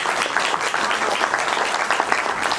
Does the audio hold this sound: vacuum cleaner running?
no